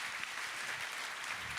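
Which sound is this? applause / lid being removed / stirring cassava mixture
applause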